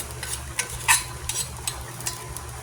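Shrimp go into a pan of sautéed mung bean stew and get stirred, bringing a low background sizzle with a few sharp scrapes and clinks of a utensil against the pan, close and clear.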